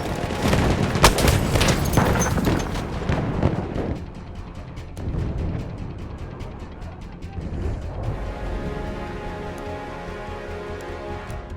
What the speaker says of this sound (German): Werft eine Granate, aufpassen! Granate ist raus, aufpassen!